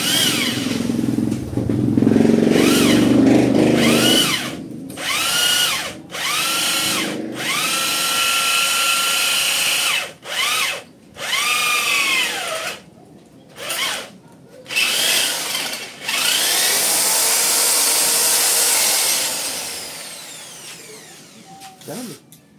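A power drill drives lag screws while a clutch, handlebar and steering are assembled, whining in repeated bursts of several seconds separated by short pauses, loud and close, with people talking and exclaiming between runs.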